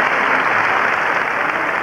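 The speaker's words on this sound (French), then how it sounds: "Alors nous allons maintenant pouvoir applaudir des grands du musical." Loud, dense applause from a comedy-show audience in a 1995 French clown performance, steady and sustained throughout without a break.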